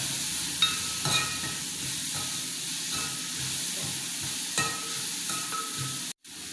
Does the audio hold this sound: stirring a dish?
yes